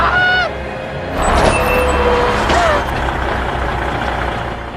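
A truck rumbles closer in a snowy mountain film scene, its low engine drone swelling midway with a brief honk-like tone and a short squeal, loud and near, with no voices.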